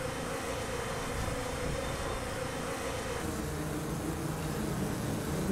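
Hundreds of worker honeybees swarm and attack a hornet, their dense droning buzz a steady, loud hum that holds throughout with no voices.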